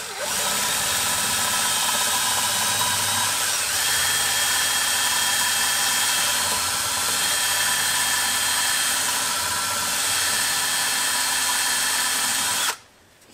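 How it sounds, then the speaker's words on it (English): A portable hand drill with a small bit whines steadily and loudly, its pitch shifting slightly as the bit bites into metal, then the motor cuts off abruptly near the end. "now I start with a small drill bit in a portable hand drill"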